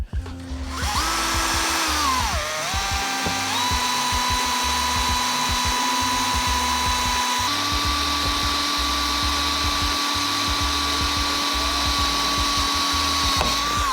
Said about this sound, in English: I need to drill farther out here.